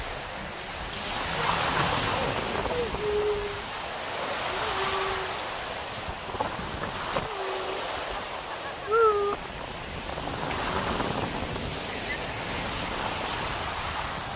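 Big ocean waves roll onto a beach in Quezon, a broad continuous wash of surf that swells and fades, with a few faint voices and short tonal sounds above the noise.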